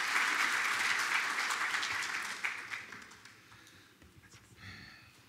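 An audience at a formal event claps, a bright sustained burst that fades over a few seconds into scattered individual claps and faint background noise.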